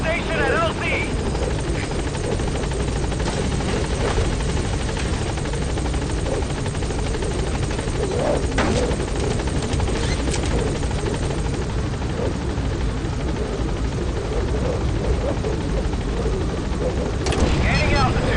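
A helicopter hovers at a landing zone in Metal Gear Solid V, its rotor thumping loud and continuous throughout with a broad engine roar, while radio voices talk over it.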